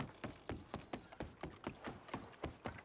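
Horse hooves in Red Dead Online, a steady rhythmic clip-clop of a trotting horse, about four beats per second, quiet and close with no talking.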